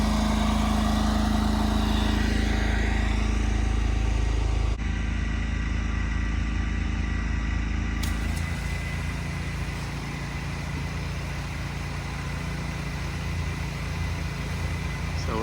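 A high-pressure sprayer's engine, used on trees against spongy moth caterpillars, runs steadily at a loud mid-pitched drone, with an abrupt change in tone partway through as the load shifts, and no talk over it.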